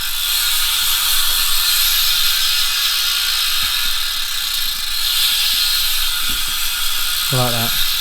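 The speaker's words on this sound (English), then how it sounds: "That is a Halo Superdrive hub" Halo Superdrive rear bicycle hub buzzes with a loud, rapid freewheel ratchet clicking as the wheel coasts, close and steady, with a brief voice near the end.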